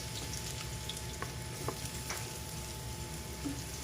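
Garlic frying and sizzling in hot cooking oil in a pot, a steady dense crackle with a few scrapes of stirring, close and moderately loud with no talk.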